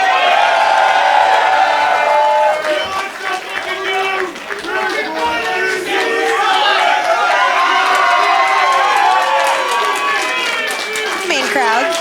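Wrestling crowd at a Limitless Wrestling show in Yarmouth, Maine, roaring and cheering for AC Romero, a loud, dense wall of voices that stays steady throughout, with shouts and whistles rising out of it.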